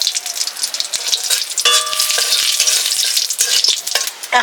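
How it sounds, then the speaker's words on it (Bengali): Cumin, chili and bay leaf crackle and sizzle loudly in hot oil in a kadai as a lentil tempering is made, a close, continuous fry with light stirring scrapes and small clinks. "কড়াইতে তেল দিয়ে দিচ্ছি, আমি জিরে দিয়ে দিচ্ছি, লঙ্কা দিয়ে দিচ্ছি,"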